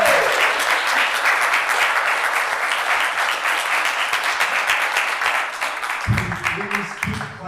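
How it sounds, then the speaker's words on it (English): A large audience at a Kent Chamber DEI luncheon applauds panelists steadily and loudly throughout, with a voice starting to speak over the clapping near the end. "Please keep clapping for the DEI committee."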